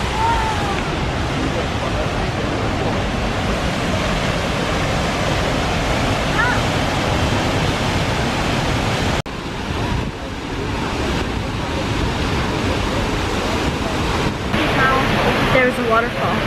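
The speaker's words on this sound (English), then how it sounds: "There's a waterfall behind me." A waterfall roars steadily at Mt. Rainier on a camping trip, a loud, continuous wash of rushing water that fills the whole scene without letup.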